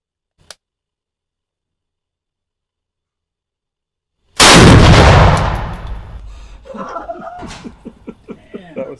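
A single loud, close gunshot from a 45 grain Hornady Critical Defense FTX round cracks out after several seconds of near silence, its blast decaying into rumbling reverberation and scattered follow-up sounds.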